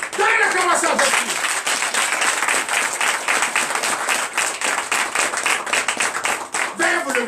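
A church congregation in Comè, Benin claps and cheers in acclamation for Jesus, dense rhythmic applause filling the room, with a voice speaking over it at the start and end.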